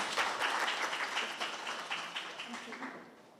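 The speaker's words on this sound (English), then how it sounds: "Colleagues, a very big hand of applause." An audience at an academic colloquium gives a round of applause, a moderately loud burst of many hands clapping that gradually fades over a few seconds.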